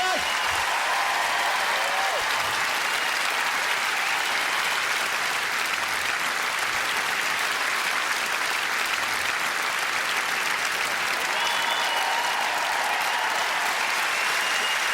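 Sustained, even applause from a theatre audience at a stand-up comedy show, many hands clapping in a thick continuous roar for the whole stretch.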